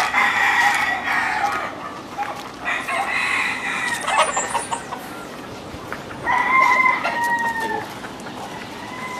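Roosters crow repeatedly at a fighting-rooster breeding yard, several drawn-out calls at moderate distance over constant outdoor background noise.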